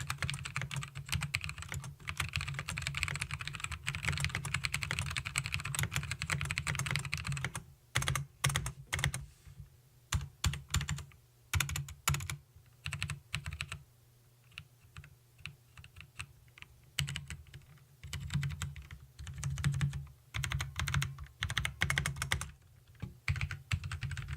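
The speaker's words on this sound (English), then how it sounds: "Let's have a listen to how it sounds" Steady typing on an Alienware AW568 mechanical keyboard with brown switches, soft, muted keystrokes, a dense flurry at first, then sparser bursts of clicks, close up.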